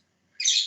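Pet lovebirds indoors give a single bright, high chirp that starts abruptly after a brief silence and rings on near and clear to the end.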